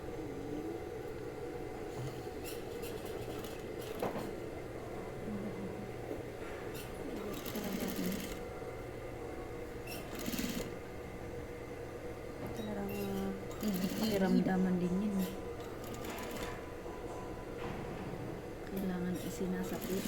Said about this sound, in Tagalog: So, tahi ko para makita nyo.